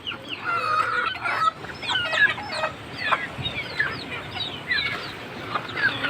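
A flock of young desi chickens, about twelve days old, clucks and cheeps continuously at close range. Short chirpy calls overlap without pause against a soft background hiss.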